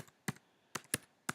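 Computer keyboard typing out a web address: four separate sharp key clicks, close and clear, spaced irregularly over a quiet background.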